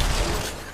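Video game gunfire bursts as a loud, rough blast of shots that fills the brief moment and ends in one sharper crack.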